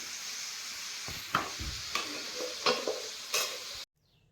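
Mushrooms frying in a pan, with a steady sizzle and several scraping stirs from a spatula at close range, alone, until the sound cuts off abruptly near the end.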